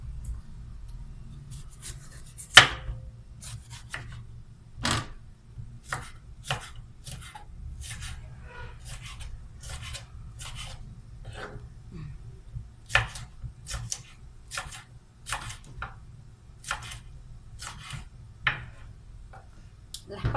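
Peppers being chopped into small pieces with a knife on a board, a steady series of sharp, close, irregular knocks against a low background hum.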